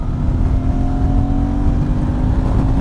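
A Suzuki 800DE motorcycle engine pulls in sixth gear at about 74 km/h, a steady, close, loud drone with a rising harmonic whine and constant wind rush, no voices.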